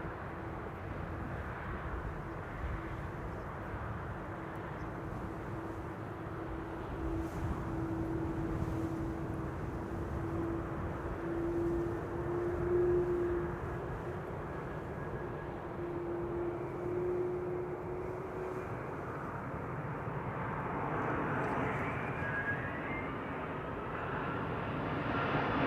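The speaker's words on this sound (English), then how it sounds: "Delta Airlines Flight 142, arriving from Seattle, 9 hours and 13 minutes on the way." A Delta Airlines jet arrives at Amsterdam Schiphol Airport, its engines a steady, moderately distant drone with a faint whine that swells and fades gently over a long stretch.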